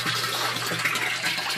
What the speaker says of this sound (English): You can see my siphon started.